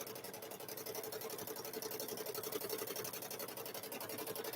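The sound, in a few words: sewing machine free-motion stitching a quilted handbag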